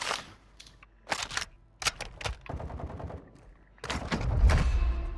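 Video game gunfire comes in several sharp bursts of rapid shots with short gaps between them. A louder rumbling blast at the end closes the sequence.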